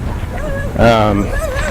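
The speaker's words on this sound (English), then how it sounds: "And Iris is barking at the other dogs in the neighborhood." A dog barks and yips a few times in a short burst, fairly close, at other neighborhood dogs, with a voice talking faintly around it.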